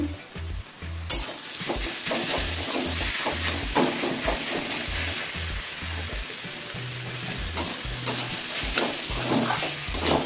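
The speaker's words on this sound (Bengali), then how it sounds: "দেখো বন্ধুরা, আমার মূলোটা ভাজা ভাজা হয়ে এসছে" Radish pieces fry in a pan while being stirred, a continuous loud sizzle broken by repeated scraping strokes of a spatula.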